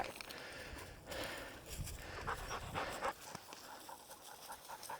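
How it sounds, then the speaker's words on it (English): A pointing dog pants quickly and rhythmically after a grouse hunt, close but fairly soft, with some rustling and footstep-like shuffles in the background. "Nice dog. What a good dog."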